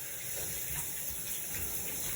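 Warm water runs steadily from a tap while a cat is bathed, a continuous close gushing and splashing with no speech.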